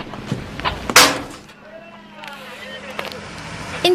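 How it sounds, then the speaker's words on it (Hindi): Explosive blasting in an open-cast coal mine gives one sharp, heavy boom that rolls off into a low rumble, followed by a few fainter thuds. "यहाँ कोयला निकालने के लिए विस्फोट कराना ही पड़ता है।"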